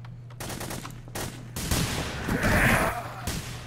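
Gunfire in the multiplayer game Hidden: Source comes as rapid bursts of shots that build toward a louder volley near the end, close and fairly loud over a steady background hum.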